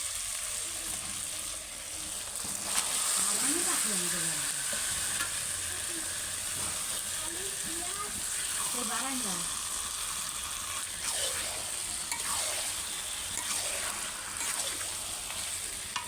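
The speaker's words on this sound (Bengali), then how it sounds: "এইভাবে সমস্ত মাংসটা আমি কষে নিয়ে তোমাদের এখন ধরো চিকেনটা আমি কষছি" Chicken sautés in spiced masala in a pan, a continuous close sizzle with repeated stirring and scraping strokes throughout.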